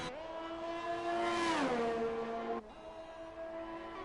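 A race car engine in a racing video game winding back up to full throttle, a steady loud harmonic whine that rises, dips, then settles into a sustained high drone.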